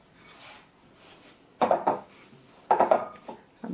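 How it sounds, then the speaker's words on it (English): Homemade yeast bread dough being kneaded by hand on a surface, soft rubbing followed by a few distinct thumping slaps and presses, close and quiet. "So you knead and knead and knead."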